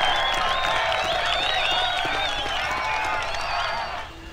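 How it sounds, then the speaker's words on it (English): Crowd cheering in the video game Baldur's Gate, a dense mass of voices shouting and whooping in a continuous roar that fades slightly at the end. "What are you doing? Cheering?"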